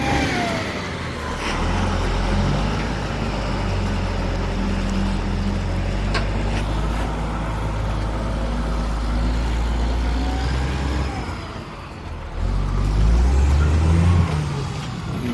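A truck engine drones steadily as it pulls a trailer away to be dumped, a loud continuous rumble that dips briefly near the end and then swells again as the vehicle works harder.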